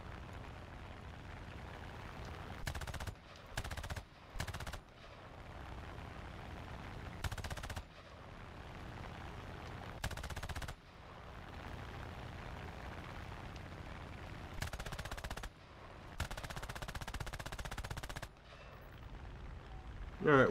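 Machine gun fire from an aircraft in War Thunder chatters in continuous, dense bursts, broken by a few short gaps, steady and fairly close.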